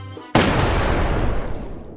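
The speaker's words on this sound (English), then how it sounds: "What was that explosion?" A rocket explosion in the Roblox game Brookhaven, one sudden loud boom after a short quiet moment, followed by a sustained roaring rumble that slowly fades.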